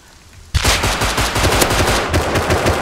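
Rapid automatic gunfire in a video game, a dense loud burst of shots fired in quick succession that starts abruptly and keeps going steadily without pause.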